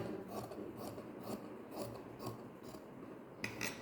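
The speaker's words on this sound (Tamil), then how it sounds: "இங்கே கால் இன்ச் துணி விட்டு கட் பண்ணுங்கள் இந்த மாதிரி" Scissors cut through blouse fabric and canvas cloth around a V-shaped neckline, giving a faint series of soft rasping snips spaced about half a second apart, close up and with no talk.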